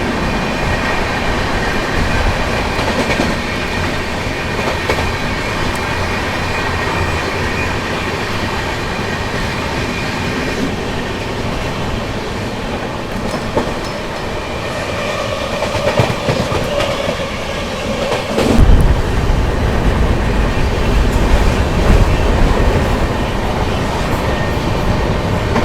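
The 12650 Karnataka Sampark Kranti Express runs steadily, with a continuous loud rumble and rhythmic clickety-clack of wheels on rail joints heard from onboard, swelling louder near the end as another train crosses.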